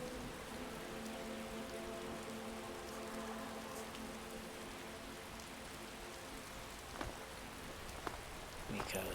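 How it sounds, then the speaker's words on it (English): Steady rain falls in Windhelm, a snowy Nordic city in the video game Skyrim, a constant soft hiss of drops with a few sharper spatters, continuous and fairly quiet throughout. "other than a lot of rain."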